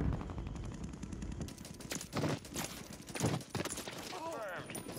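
Sidewinder gun firing in Call of Duty Warzone, with rapid bursts of shots mixed with other game noise and some talk.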